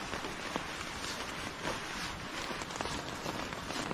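Steady rain patters on a tarp shelter in an Alaskan rainforest, a dense continuous hiss dotted with sharper individual drop taps, close and even throughout with no voices.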